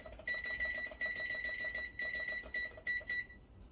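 A kitchen timer beeps in short repeated bursts with brief pauses, loud and close, while vegan chili simmers on the stove.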